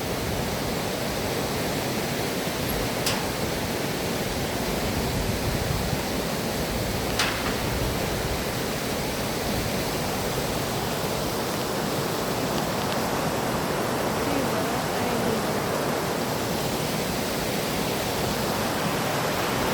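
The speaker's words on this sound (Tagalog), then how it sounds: "Yan yung ilog." River water flowing in a steady, dense rush, a constant broadband hiss with no breaks, close and fairly loud, with a couple of faint brief clicks on top.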